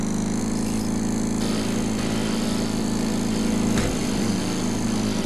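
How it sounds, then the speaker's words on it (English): A lawn mower engine used as a weapon in the spider-hunting game Kill It With Fire runs steadily and loudly up close, a continuous droning hum with no speech over it. "A lawnmower?"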